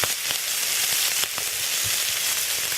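Vegetables frying in a pan at an evening camp give a steady, bright hiss of sizzle, with a few soft stirring knocks scattered through, close and fairly loud, with no talking.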